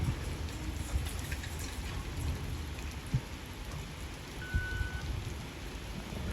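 Steady rain pours over a Thai railway station during train shunting, a dense even hiss with scattered heavier drops and a few faint knocks, with no voices.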